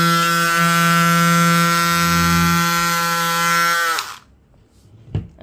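RAPIDCUT GX04 cordless electric scissors running through 10 mm foam, a loud, steady motorized buzz with a strong tonal hum that holds for about four seconds, then cuts off abruptly, followed by a few faint handling clicks.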